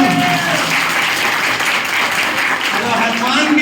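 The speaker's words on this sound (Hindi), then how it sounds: "हनुमान जी के लिए ताली जरूर बजा लेना" Audience at a celebration gathering in Gurgaon, Haryana clapping in honour of Hanuman, a loud, continuous wash of hands with voices mingled underneath, steady from start to finish.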